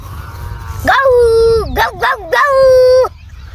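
A person mimics a dog, giving a loud, close run of yelping, howling barks with sliding pitch, several quick calls bunched together after a brief quiet start.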